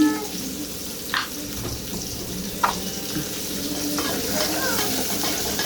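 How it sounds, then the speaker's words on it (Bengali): Spices frying in a pan while being stirred, with a steady sizzle broken by a few scraping strokes of a spoon against the pan. "রান্নার মশলাটা যত কষাবো রান্না ততই টেস্টি হবে"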